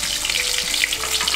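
Shrimp fritter (ukoy) frying in hot oil, giving a continuous bright crackling sizzle, close and steady across the short stretch.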